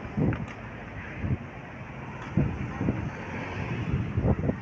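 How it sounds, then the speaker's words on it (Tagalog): Gusty outdoor wind buffets the microphone in uneven rumbling bursts, loud and close, with no clear voices. "Salamat sa hangin."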